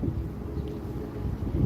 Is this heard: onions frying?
no